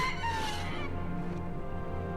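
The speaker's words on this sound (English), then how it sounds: "What was that? Some kind of chicken lizard?" Small chicken-like lizard creature in The Book of Boba Fett, clucking and crowing in a steady fowl-like call over a sustained low hum, close and fairly loud throughout.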